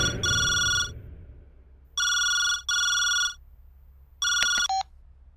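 A telephone rings in a Telugu movie scene with a bright electronic trill in four bursts, two close together in the middle and a short clipped one at the end, loud and alone over a faint background hum.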